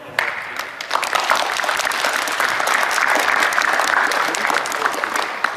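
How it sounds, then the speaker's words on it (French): Audience applause after a school play by the FCPJ club at Dar Al Zahra, loud and continuous clapping from a packed room that holds steady for several seconds. "les spectateurs, je pense qu'il faut applaudir très très fort"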